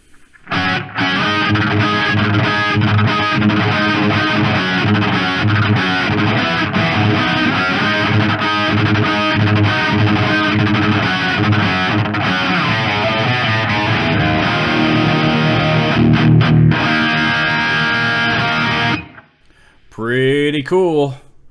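A distorted electric guitar through an amp simulator preset plays a sustained riff for about twenty seconds, loud and close, then a brief spoken voice follows.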